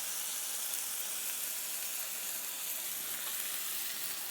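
A burger patty frying on its second side for a homemade Big Mac, giving a steady, even sizzle with a bright hiss that stays unchanged throughout, with no talk.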